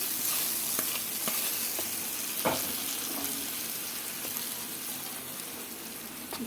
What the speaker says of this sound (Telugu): ఇంకా తాలింపు కూడా వేసుకుంటున్నానండి చట్నీలోకి